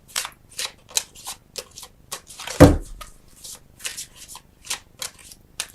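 A Flower Therapy oracle card deck being shuffled by hand, close and crisp, in a rhythmic series of riffling bursts with one louder thump partway through and no speech.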